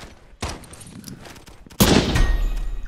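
Sniper rifle shots ring out in the online shooter game Poxel.io, a sharp crack followed by another louder blast and lingering game noise.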